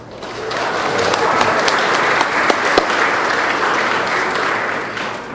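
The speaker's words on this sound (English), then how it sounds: "Give yourself a round of applause." Sustained applause from a large audience at a BotCon 2007 panel, a dense wash of clapping that swells in and holds steady, with a few sharper claps standing out.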